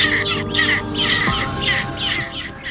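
Antarctic scavenging birds give a series of harsh, crow-like caws in rhythmic bursts, loud and close against a steady windy background with no talk.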